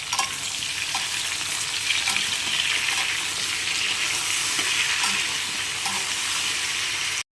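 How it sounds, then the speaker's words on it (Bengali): Mixed vegetables for a chicken vegetable soup frying in a pan with salt and turmeric, giving a loud, continuous close-up sizzle with a few faint stirring knocks and no talking. "একটু নুন আর হলুদ দিয়ে দেবো, দিয়ে ভালো করে ভাজবো"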